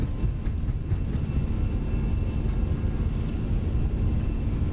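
An airliner rolls down a bumpy runway for takeoff in Microsoft Flight Simulator 2020, a steady loud low engine roar with rumbling texture and faint whine, no voices.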